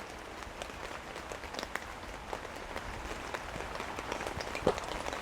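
Torrential rain drumming on a new tent overnight, a steady patter with scattered sharper drops and a louder splat near the end, no voices.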